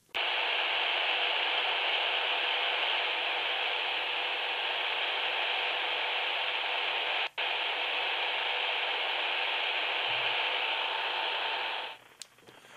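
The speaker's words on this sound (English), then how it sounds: "I'll turn a radio, just picked one up now. I'll turn it on and we can listen" A radio switched on in an apartment and tuned to an empty frequency reserved for Morse code, giving a loud, steady hiss of static for about twelve seconds with one brief dropout midway before it cuts off.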